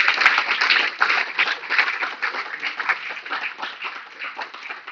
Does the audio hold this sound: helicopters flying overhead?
no